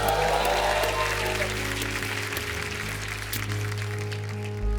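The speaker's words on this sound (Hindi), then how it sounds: "जोरदार तालियां।" Loud applause from a TV comedy show studio audience, dense, steady clapping filling the whole short stretch without pause.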